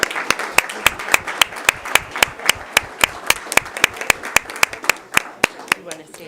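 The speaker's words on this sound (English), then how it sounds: "Can we give all of our students a round of applause?" Audience applause for Stockton Unified students at a school board meeting, a steady run of sharp, fairly close claps from a small crowd lasting several seconds.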